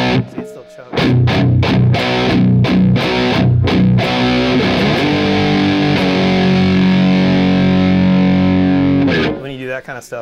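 Electric guitar through a Matamp GT1 amp plays a few sharp chugged stabs, then rings out in one thick, heavily distorted sustained chord that fills the sound before cutting off.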